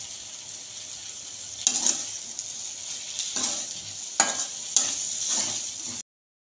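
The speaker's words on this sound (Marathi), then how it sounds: "तेल पण थोडंसं आपण भाजायचं या मसाल्यासोबत" Masala roasts in oil with okra for a hotel-style bhindi fry, a moderate hissing sizzle with several bursts of stirring and scraping in the pan, then abrupt silence at the end; no speech.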